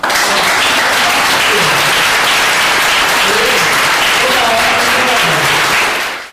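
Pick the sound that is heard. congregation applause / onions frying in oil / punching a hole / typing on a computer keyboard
congregation applause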